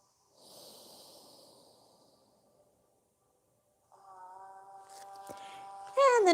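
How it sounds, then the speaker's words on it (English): One slow, soft deep breath drawn through the nose during a yoga session, faint and close, followed by silence and then a steady humming tone. "move your body to one side and take a few deep breaths"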